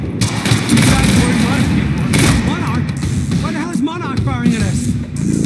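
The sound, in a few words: Monarch gunfire in the video game Quantum Break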